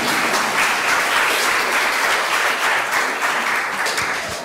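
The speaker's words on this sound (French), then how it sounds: "vous pouvez applaudir, allez-y." Audience applause at a French panel event on future generations, dense and steady clapping filling the whole stretch, fairly loud, fading slightly at the end.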